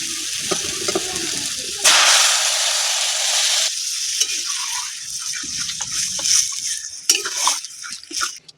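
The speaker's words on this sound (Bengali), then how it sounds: "এবার দিয়ে দেবো জল" Water poured into a hot pan of sautéed parshe fish curry with elephant foot yam sets off a loud, broad hissing sizzle for about two seconds, followed by quieter scraping stirs and bubbling, with no talking.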